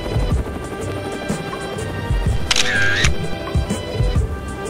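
A camera shutter clicks once with a brief whirring burst, set against steady wind and rumbling noise during a hot-air balloon landing in Baños de Agua Santa, Ecuador.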